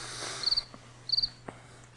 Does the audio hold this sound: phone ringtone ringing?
no